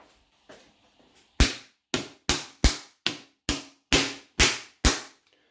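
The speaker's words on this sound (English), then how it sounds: "but let's pierce the film." Film lid on a Tesco ready-meal mac and cheese pierced with a run of eight sharp, evenly spaced stabs, each a crisp close plastic pop, following a couple of faint soft taps.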